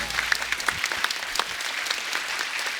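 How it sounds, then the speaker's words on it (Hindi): Studio audience applauding on a TV comedy talk show as a guest named Nora is welcomed, dense continuous clapping with sharp individual claps standing out, brief and lively. "नोरा के लिए खुल के तालियां होनी चाहिए पहले तो."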